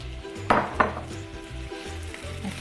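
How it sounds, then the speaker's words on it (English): Ingredients sizzling in hot sesame oil for pad thai, a steady close frying hiss broken by two sharp metallic clanks of utensil on pan early on, with no voices. "we're gonna just let those move around in the hot sesame oil"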